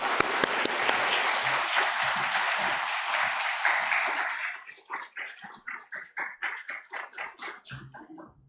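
Audience applause welcomes a married couple at a church couples-seminar gathering, a dense wash of many hands that fades after about four seconds into scattered, spaced single claps near the end.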